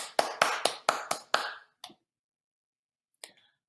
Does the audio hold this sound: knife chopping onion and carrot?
no